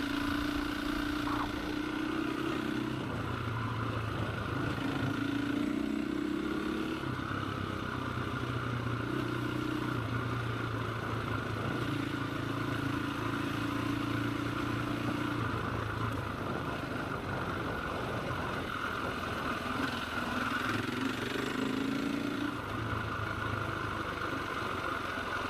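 A KTM 525 EXC dirt bike rides an easy Gippsland trail, its single-cylinder engine droning steadily up close as the revs rise and fall through gear changes over about twenty-five seconds, with no talking.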